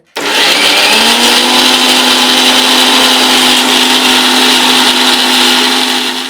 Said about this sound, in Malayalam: തക്കാളി നമുക്ക് അരയ്ക്കാം കേട്ടോ മിക്സിയിൽ